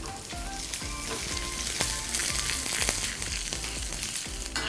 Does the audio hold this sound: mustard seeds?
yes